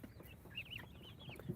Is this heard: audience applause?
no